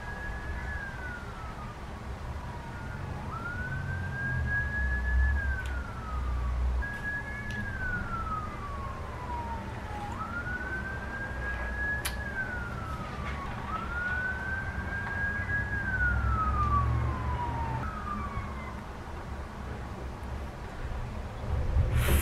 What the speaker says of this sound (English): We're just gonna wait until the siren goes away.